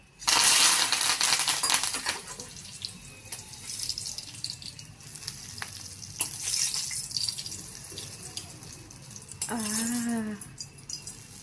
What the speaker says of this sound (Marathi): यावर आपण आता फोडणी टाकूया.